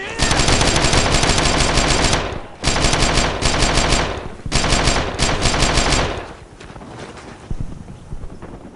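Rapid automatic gunfire in the Brothers in Arms: Earned in Blood video game, dense loud bursts broken by short pauses, then fading into quieter scattered shots and rumble.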